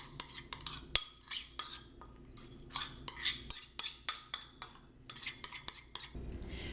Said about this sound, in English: Make sure you use a bowl that's big enough to stir everything together and add your dressing.